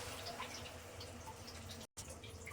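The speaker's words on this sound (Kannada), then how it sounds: "ಈಗ ಸ್ವಲ್ಪ ವಾಟರು," Water poured into a pot of home-style fish curry, a steady broadband splashing and trickling stream, close and moderately loud, with a brief dropout near the end and no talking.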